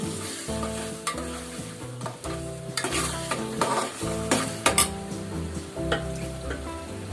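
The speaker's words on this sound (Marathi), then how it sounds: "त्या एकदा मिक्स करूया आपण" Pav bhaji masala frying in oil, stirred with a spoon: steady sizzling broken by scraping strokes and sharp clinks against the pan in an uneven rhythm.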